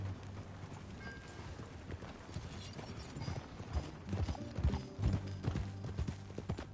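Horse hooves clip-clop at a steady walking pace in Red Dead Redemption 2, growing a bit louder and busier toward the end over a faint background hum.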